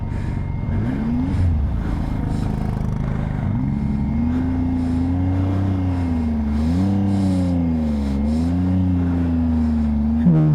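A car engine labors steadily in first gear on a dirt road on the mountain route from Leh to Nubra Valley via Khardung La, with a continuous loud drone whose pitch rises and falls as it revs.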